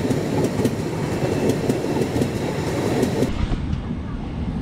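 A Talguppa to Bangalore passenger train passes close by, its wheels rumbling and clattering rhythmically over the rail joints with a steady heavy roar that eases slightly toward the end.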